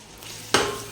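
Tomato and a ground mint-coriander paste go into a hot pan for Muslim-style mutton dum biryani, bringing a sudden sharp sizzle after a quiet moment that then fades slowly.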